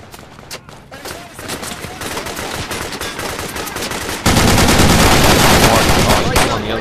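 Gunfire in the video game Project Reality: scattered shots at first, then a loud, sustained burst of rapid automatic fire close by that keeps going to the end.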